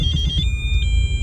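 A car radar detector alerting inside a Mitsubishi Evo, giving a steady, loud electronic tone that shifts pitch partway through, close up with a low cabin rumble underneath and no talking.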